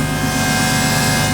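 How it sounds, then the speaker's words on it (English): Fuel pumps in a Nissan 350Z twin turbo run as a loud, steady mechanical whine and hum with a constant drone throughout, close and unbroken. "these fuel pumps are so fucking noisy."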